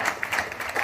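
Audience clapping for Sai Baba in a short burst of steady, fairly close applause from a group, with no talk over it.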